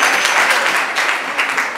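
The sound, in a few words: students applauding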